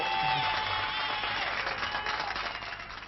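A television studio audience at a 1978 French game show claps for a young champion, a dense, sustained applause that gradually thins and fades.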